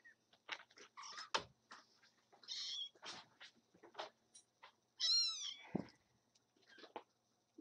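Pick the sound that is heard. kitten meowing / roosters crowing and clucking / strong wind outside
kitten meowing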